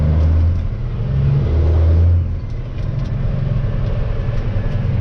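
A truck engine pulls off in gear on a stone-spreading job, a loud, close, steady low rumble with droning tones that rise over the first two seconds, then ease into a rougher, even drone.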